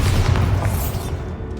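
A Bombarda explosion spell in Hogwarts Legacy booms loudly, a single deep blast that rolls on and fades over its short span.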